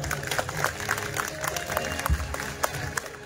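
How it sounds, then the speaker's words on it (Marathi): Audience applause follows a bharud folk performance at a shahiri program in Baramati. The clapping is steady and fairly dense, with voices faintly mixed in underneath throughout. "आता झालेलं भारूड आवडलं असेल तरच जोरदार टाळ्या वाजवा"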